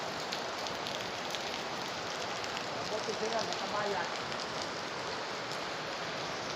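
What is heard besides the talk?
heavy rain pouring in Manila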